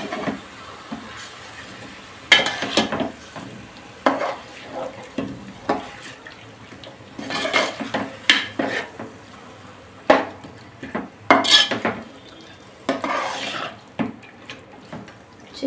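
A metal spoon stirs chicken pieces into fried masala in a pan for chicken pulao, giving repeated scraping clinks and wet clatters in irregular bursts with brief pauses between strokes, close and fairly loud, with no talking.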